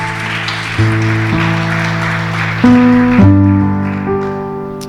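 A church congregation claps steadily in a dense, continuous wash of applause while sustained keyboard chords play loudly over it, shifting through several changes.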